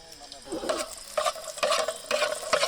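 An egg frying in a hot saucepan, bursts of crackling sizzle rising and falling in short waves at close range, with no talk.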